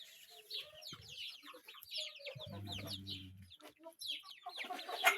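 Several young chickens, mostly naked-neck, cluck and chatter close by, with a brief low rooster-like call in the middle and overlapping calls throughout.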